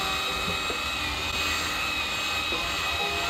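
A drill spins a flex hone inside an engine cylinder on a K20/K24 build, giving a loud, steady high-pitched whine with a constant grinding texture throughout.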